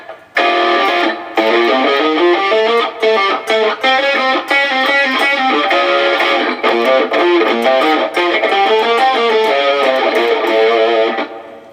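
Distorted electric guitar improvises fast, winding lines on the A altered scale with a chorus-like shimmer, loud and continuous with brief pauses between phrases.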